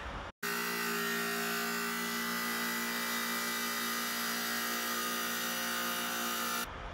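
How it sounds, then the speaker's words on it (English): A tile saw runs steadily with a loud, continuous whine and hum, starting abruptly and cutting off at the end, with no voices. "Here is a quick listen to what a tile saw sounds like."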